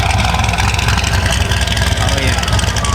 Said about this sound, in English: I'm kind of scared to turn this car off, so we're gonna leave it running